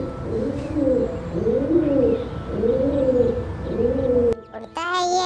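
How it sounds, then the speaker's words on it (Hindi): Pigeon cooing in a repeated rolling rhythm, four soft throaty coos in a row, close and clear, followed by a short break and a brief different sound at the end. "हाँ मुझे पता है आपने सुना होगा कैसे कबूतर"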